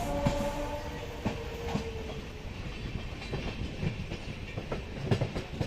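A local train rolls past on the rails near a junction on a Kolkata line toward Dakshineswar, its wheels beating a continuous clickety-clack. Sharp rail clanks cut through the steady rumble, heard from close by.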